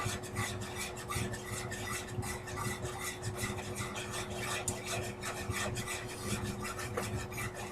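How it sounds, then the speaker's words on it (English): Cheese sauce of milk, cheddar and American cheese for mac and cheese being stirred in a pot, a steady scraping, rubbing rasp of a utensil against the pan that runs continuously at close range with no talk. "I want to keep stirring this."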